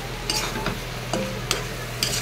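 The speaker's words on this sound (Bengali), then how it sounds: "এগুলো দিয়ে ভালো করে নাড়িয়ে চাড়িয়ে নিলাম" Boondi crumbs being stirred into sugar syrup in a pan, a constant low bubbling hiss under repeated close spoon scrapes and clinks against the metal, with no talking.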